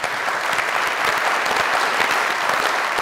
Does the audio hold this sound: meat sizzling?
no